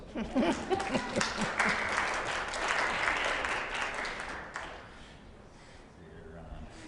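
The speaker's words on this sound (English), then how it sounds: "we should give her a big applause" Audience applause greeting a speaker at a lecture, a brief burst of clapping from a seated crowd that swells early and fades away over several seconds.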